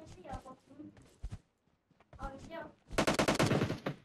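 Gunfire in PUBG Mobile on the Livik map: a loud, rapid automatic burst dominates the final second, after players talk over scattered shots earlier on.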